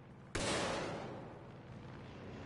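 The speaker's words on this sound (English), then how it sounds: "Yeah, there's that firework." A firework bursts in a video game with a single sharp, loud blast that is followed by a broad, noisy crackle. The crackle fades slowly over about two seconds, with no voices heard.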